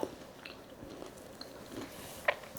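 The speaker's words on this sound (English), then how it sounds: "Can you hear the crunch?" Close-up chewing and biting into crispy, batter-coated masala fried fish with a few sharp crunches near the end, quiet and wet, no talking.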